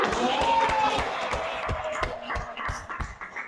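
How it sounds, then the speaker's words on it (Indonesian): A classroom audience claps after a group presentation, a short burst of scattered, fairly close hand claps of moderate loudness, with some shuffling mixed in. "Tepuk tangan buat kita semua."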